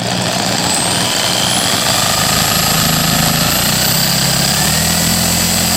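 A loud, rough power drill roars continuously with a rattling, grinding texture, steady throughout and very close.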